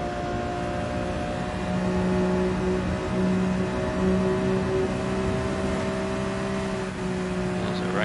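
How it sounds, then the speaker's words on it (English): A race car engine in a driving video game, a steady droning hum with sustained tonal whine and slight swells in pitch, continuous throughout while a voice talks over it. "Race car."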